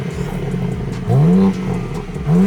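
BMW M4 Competition exhaust revving hard in two loud bursts, the engine note rising and falling sharply between a steadier idle-like rumble, close and alone with no talk.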